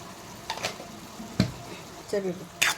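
Tomato curry with salt, turmeric and chili powder frying in oil, soft sizzling broken by a few scrapes and clinks of stirring, close up and fairly quiet.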